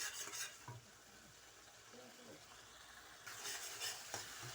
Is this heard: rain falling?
no